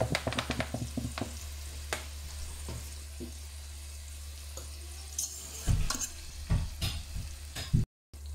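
Onions fry in oil in a pot, a low steady sizzle beneath frequent sharp scraping and knocking from a stirring spoon, with a brief cut to silence near the end.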